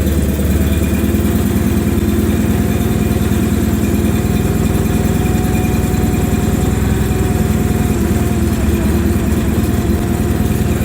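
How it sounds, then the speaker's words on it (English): Onan engine on a John Deere 210 or 316 garden tractor runs with the choke on after a cold New Year's start, a loud, close, steady chugging idle that continues without pause or change. "These Onans like to be run with the choke on for a little while until they warm up"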